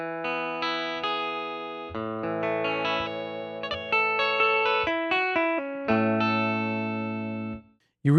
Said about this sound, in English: You really can get a lot of different tones and feels from this guitar.